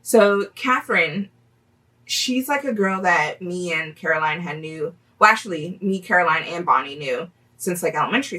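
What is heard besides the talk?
No everyday noise stands out behind the speech.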